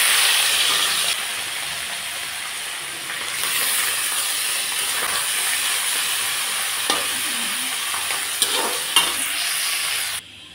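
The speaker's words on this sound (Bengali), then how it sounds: "মাছগুলো হালকা করে ভেজে নিচ্ছি" Fish frying lightly in hot oil in a pan, a steady loud hiss and sizzle running throughout with occasional small clinks and scrapes.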